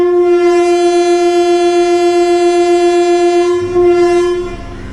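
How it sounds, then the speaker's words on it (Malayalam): A MEMU electric multiple unit on the Nilambur–Shoranur line sounds a long, loud, steady horn blast that ends near the close, leaving the low rumble of the moving train. "സമയമായി ബാക്കിൽ നിന്ന് ഹോൺ അടിച്ചു."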